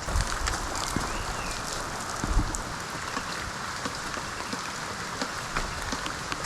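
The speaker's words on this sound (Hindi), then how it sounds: "ये बारिश की वजह से मैं आगे नहीं बढ़ पा रहा" Steady rain patters on a surface during a trek to Visapur Fort, a dense even hiss with scattered drops, continuous throughout with no voices.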